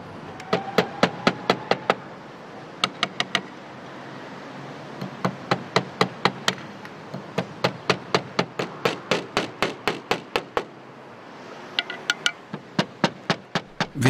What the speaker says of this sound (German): Während Samuel Rosenkranz in Daaden weiter hämmert